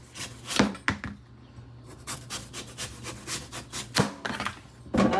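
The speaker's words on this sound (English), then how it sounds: "this is how I do a watermelon. I just peel it, basically." A knife shaves the rind off a watermelon in repeated scraping, chopping strokes, close and fairly loud, with short pauses between cuts.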